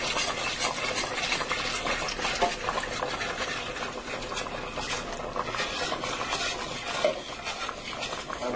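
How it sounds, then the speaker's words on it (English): Milk is stirred into a margarine and flour roux in a pot for cheesy ham and potato soup, giving a continuous soft scraping and sloshing with occasional utensil clinks, with no talking. "I want to stir that up well."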